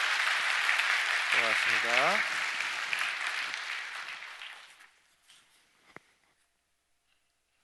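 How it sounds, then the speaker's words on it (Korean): A church congregation at a Korean Presbyterian baptism service applauds after the baptism declaration, loud sustained clapping that fades out over several seconds, with a brief spoken thanks and a sung or intoned phrase briefly rising over it. "박수로 축하해 주시기 바랍니다."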